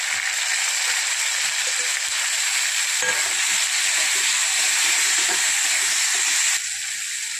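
Tomatoes drop into hot oil with garlic and curry leaves, giving a loud, steady, close sizzle and hiss that surges briefly near the middle, then settles into a lower fry near the end.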